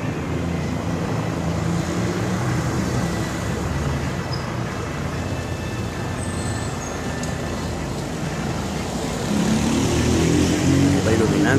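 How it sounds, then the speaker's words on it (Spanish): Steady low droning rumble of a police patrol helicopter passing overhead in Siloé, Cali, Colombia, loud and continuous, swelling slightly toward the end, with faint background noise. "Patrullajes de helicóptero de la Policía acá en Siloé"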